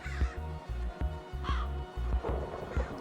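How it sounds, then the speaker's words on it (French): Crows caw repeatedly in a zoo-building video game, several harsh calls over a steady, rhythmic low pulsing game background, clear and fairly close. "on va mettre les petits corbeaux"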